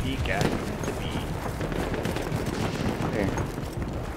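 Heavy mounted turret gun firing in a video game, a dense continuous roar of rapid shots that stays loud throughout.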